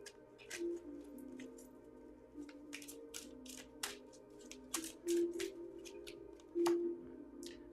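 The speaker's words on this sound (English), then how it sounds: "I've got to shuffle these." Tarot cards being shuffled by hand, a soft, quiet series of quick papery riffles and taps spread across the clip, faint and close with no talking.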